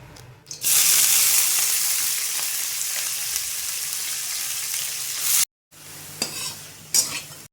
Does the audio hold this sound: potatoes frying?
yes